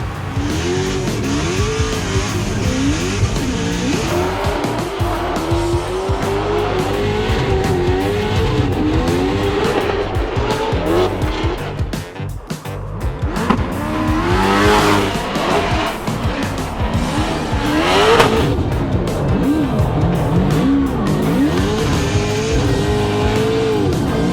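A drift car at the Irwindale drifting season finale revs hard with sustained, wailing tire squeal, the engine note rising and falling through long slides, loud and close for over twenty seconds with no talk.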